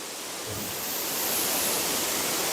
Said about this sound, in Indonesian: air terjun kecil ini istimewa teman-teman, mengaliri beberapa celah-celah batu yang kecil